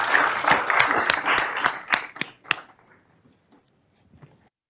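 Audience clapping at a regional fast pitch competition, a burst of loud, sharp individual claps for about two and a half seconds that cuts off abruptly, followed by faint scattered sounds and quiet murmuring.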